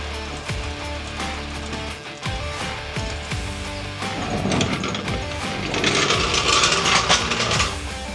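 A ratchet works the 24mm lower panhard bolt loose on an 80 Series Land Cruiser, producing rapid rhythmic clicking with metallic clatter up close, growing busier and louder toward the end.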